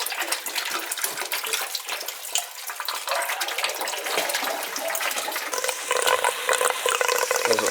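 Water drains out of an old, crusty boiler tank in a continuous rushing, gurgling flow heard close by, steady throughout and rising slightly near the end, with no one speaking.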